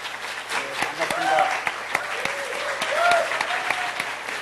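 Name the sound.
audience applause welcoming the minister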